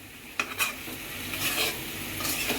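Ground turmeric, coriander and cumin with bay leaf fry in hot oil while a spoon scrapes and clinks against the pan a few times over a continuous sizzle, with no one talking.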